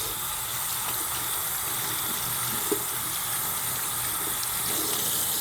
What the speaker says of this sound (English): the proper way to wash hands is to first turn on the tap